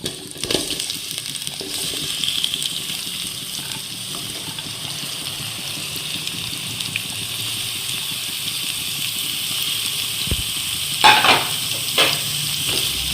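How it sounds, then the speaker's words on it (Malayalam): Chopped onions sizzle steadily in hot coconut oil in a pan for a Kerala beef roast, a continuous broadband hiss with occasional stirring clinks and a brief louder scrape near the end, no voices. "വെളിച്ചെണ്ണ ഒന്ന് ചൂടായി വരുമ്പോൾ നമ്മൾ അരിഞ്ഞു വെച്ചേക്കുന്ന സവാള അരിഞ്ഞു വെച്ചേക്കുന്ന സവാള അതിലേക്ക്"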